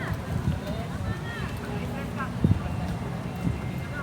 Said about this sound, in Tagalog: Nakita nyo guys yung mga kabayo.